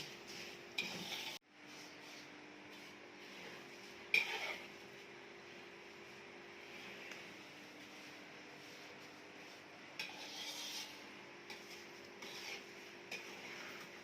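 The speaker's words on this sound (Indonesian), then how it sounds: "Ini saya menggoreng bawang ya." Onions frying in halal-certified oil in a small home-industry kitchen making nion-nion fried shallots, a faint, steady sizzle with occasional stirring scrapes and clinks, no voices.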